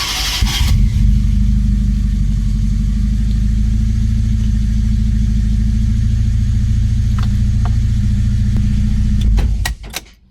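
A hot, carbureted Proton Saga engine starting: a brief burst, then a loud, steady idle with a low drone that runs for several seconds before cutting off abruptly near the end.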